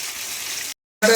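Fish frying in hot oil in a home kitchen, a steady bright sizzle that cuts out briefly and then returns loudly.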